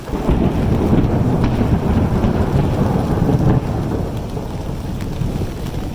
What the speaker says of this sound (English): I'm not supposed to walk near large trees when there's thunder, because I might get hit.